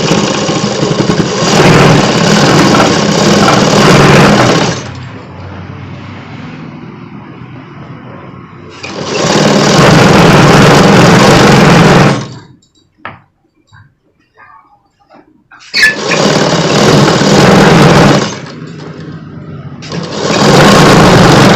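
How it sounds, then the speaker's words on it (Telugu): Sewing machine stitching the leg of a collared night suit, loud close runs of rapid mechanical whirring a few seconds long, separated by quieter pauses and brief handling noises. "సేమ్ ఇదే విధంగా ఇంకొక కాలు కూడా కుట్టు వేసుకోవాలి"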